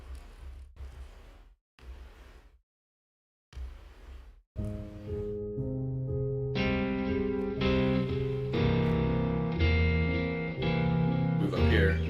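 Someone talks briefly before a guitar plays a chord progression using only thirds and sevenths on the two middle strings, with no extensions. The chords ring out sustained and layered with an effects-coloured tone.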